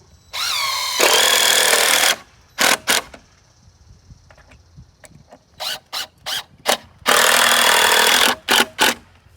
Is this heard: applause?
no